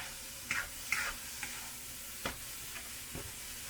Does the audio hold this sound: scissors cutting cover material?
no